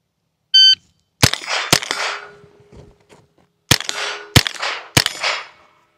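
A shot timer beeps once, then gunshots ring off steel target plates in a timed shooting run: two quick shots, a pause with faint movement, then three more loud cracks, each followed by a ringing metallic tail.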